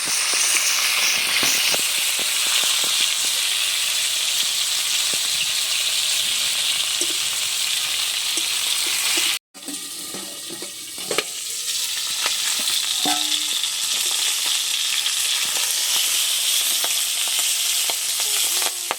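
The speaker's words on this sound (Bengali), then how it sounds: "মাছগুলো ঢাকা দিয়ে দিয়ে ভেজে নিচ্ছি" Tengra fish frying in oil in a pan, a loud steady sizzle and crackle that cuts out briefly when the lid comes off, then continues with soft scraping and popping.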